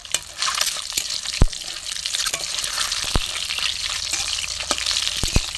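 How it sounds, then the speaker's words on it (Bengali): Duck eggs fry in oil over a wood-fired stove, giving a steady close sizzle with a few sharp spatters and pops, and no voices. "ডিমগুলো একটু ভালো করে ভেজে নেবো।"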